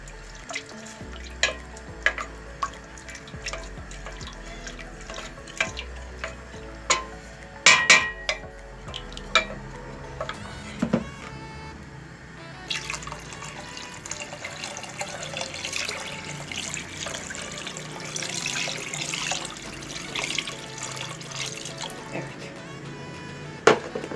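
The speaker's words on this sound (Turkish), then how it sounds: "Bu arada soğuk su koyuyorum arkadaşlar." Cold water poured into a pot of Turkish bean stew, a splashing, gurgling flow with clinks of the pot, growing fuller and denser partway through, close and without talk.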